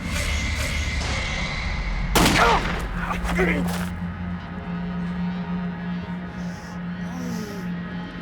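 A burst of gunfire rings out in a dramatized true crime reenactment of a shooting, a rapid cluster of loud cracks followed by a second shot amid a steady low hum and background murmur.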